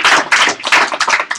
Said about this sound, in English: I want to give a round of applause to these guys.